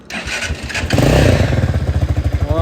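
A new motorcycle is started with its electric start button: a short whirring crank, then the engine catches and settles into a loud, close, rhythmic idle chug.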